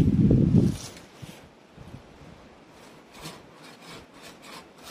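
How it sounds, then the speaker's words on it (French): A Parkside pole branch saw from Lidl cuts a tree branch outdoors near a power line: a loud rough scrape at the start, then fainter, uneven rasping strokes of the blade through wood. "on va pouvoir commencer à couper la branche"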